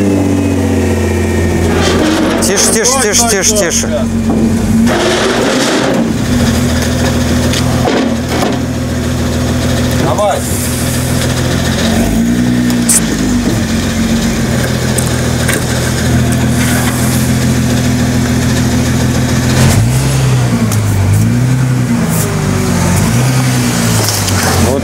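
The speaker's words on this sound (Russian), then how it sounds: "сейчас услышишь, он будет запускаться со звуком, с металлическим." A damaged, rebuilt sports car's engine cranks and starts, then idles and revs unevenly with a metallic rattle, close up, while someone speaks over it.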